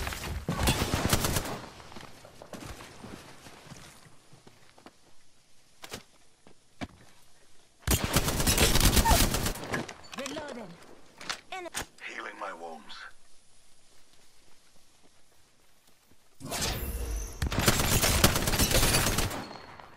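Bursts of automatic gunfire in the Apex Legends battle royale game come in loud, dense volleys separated by quieter gaps, with a character voice and scattered clicks in between.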